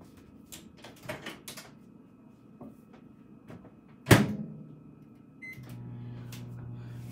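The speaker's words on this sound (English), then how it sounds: "I'm gonna put this back in the microwave" A microwave oven hums steadily with a low drone after a door is shut with a loud thump, preceded by faint kitchen clatter and handling sounds.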